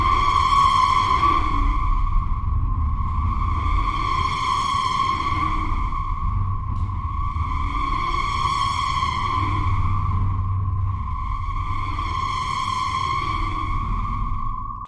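A horror-style atmospheric drone built on the Vital synthesizer: a sustained, steady tone with rich harmonics that swell and recede in slow waves about every four seconds over a rumbling low bed, continuous and without voices.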